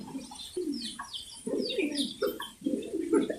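Pigeons at a pigeon farm give repeated low, throaty coos in close overlapping phrases, with faint chirps in the background and no talk over them.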